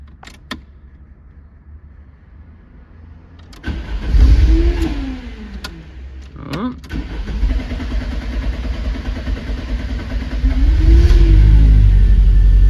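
A 1993 Lancia HF Integrale, under repair for a no-start fault after fuel pressure work, is cranked and fires up, then its engine revs up and settles twice, loud and close, with no talking.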